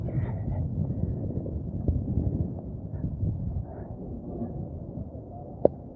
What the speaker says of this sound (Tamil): திடீர்னு மழை வந்துருச்சு இன்னைக்கு